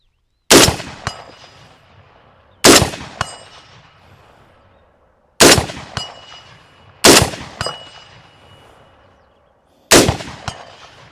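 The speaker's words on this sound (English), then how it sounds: "5 hits at 150 on 8-inch steel." Five sharp rifle shots from a Bear Creek Arsenal .243 Winchester upper, each a loud crack followed by a faint clang of the bullet striking an 8-inch steel target at 150, spaced a couple of seconds apart with fading echo.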